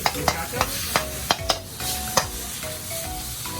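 Vegetables are stir-fried in a pan with a little water at a Thai street-food stall, a spatula scraping and tossing in sharp rhythmic strokes over a steady sizzle, close and clear with no talking.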